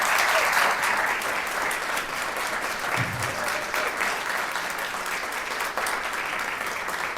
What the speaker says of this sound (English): Please give them a large round of applause.